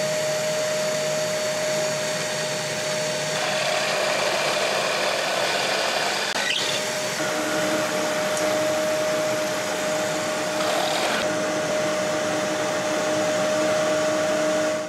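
A band saw runs with a steady, loud motor hum and whine while cutting through an 80x80 mm wood block, the tone holding constant with slight rises as the blade bites, no talking.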